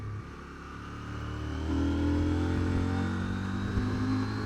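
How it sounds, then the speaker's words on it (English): 2022 CF Moto 800MT motorcycle engine under way, a steady droning hum that rises in pitch as the bike accelerates, loud and close, with wind rushing alongside. "It's got a cracking engine."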